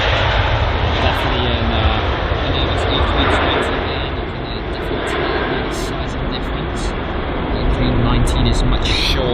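A British Airways Airbus A320 airliner at London Heathrow makes a loud, steady, broad engine roar that swells and eases slightly, with someone talking over it.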